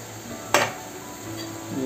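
Masala, onion and tomato frying in hot oil in a pan, giving one short, close sizzling burst that fades into a low hiss.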